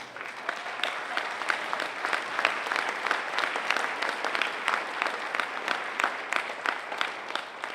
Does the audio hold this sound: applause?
yes